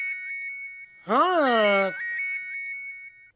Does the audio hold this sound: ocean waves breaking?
no